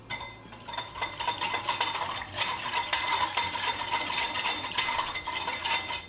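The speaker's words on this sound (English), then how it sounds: "And we're just gonna whisk this all together." A whisk clicks rapidly against a bowl, mixing a sauce of coconut aminos, maple syrup and cornstarch in a dense, steady metallic rattle that stays close and moderately loud throughout.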